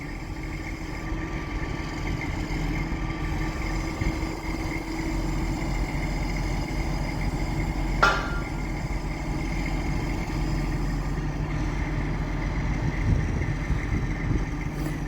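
A crane engine runs steadily under load while lifting the old Bluebird Restaurant building, a continuous low rumbling drone at moderate distance with one brief sharp click partway through.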